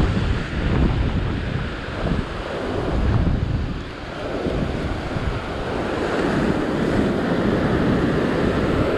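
Strong sea waves break at a rocky shore during a spearfishing and sea fishing outing while gusty wind buffets the microphone. The surf roars loud and close in continuous swells, with no talk.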